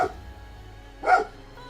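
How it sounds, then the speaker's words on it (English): A dog barks once, faint and distant, against a quiet indoor background. A short yip-like sound comes just before it. "My dog's the one freaking out like a crazy person."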